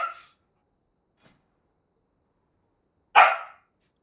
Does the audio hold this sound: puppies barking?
yes